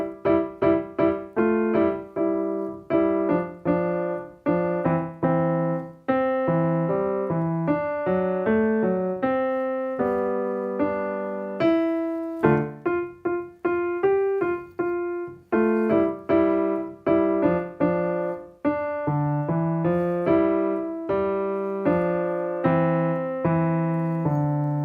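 A solo piano plays a jazz piece from a level 2a method book, with clear chords and a walking melody under an easy swinging rhythm. It continues unaccompanied and without talk.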